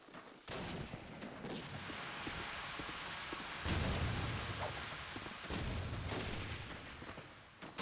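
Rapid gunfire and explosive bursts from Call of Duty 2 in a competitive Axis-side tournament match, a dense, continuous battle din with heavier booms midway, no voices.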